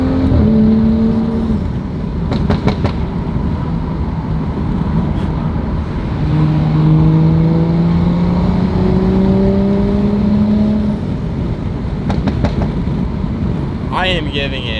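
A stage 2 tuned BMW 435i, still cold, accelerating hard in Sport mode, its engine note rising in repeated pulls with a steady loud drone, while a person talks over it.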